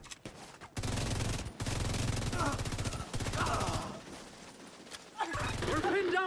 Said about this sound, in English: We're pinned down by turrets at the main gate!